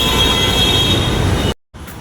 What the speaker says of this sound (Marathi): घाटकोपरवरून मेट्रो पकडली आणि निघालो मग